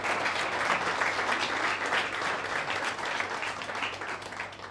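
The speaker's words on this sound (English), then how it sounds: "A round of applause for Moira, everybody." A crowd at a bakery grand opening in Melbourne claps steadily in a warm, sustained round of applause that tapers slightly at the end.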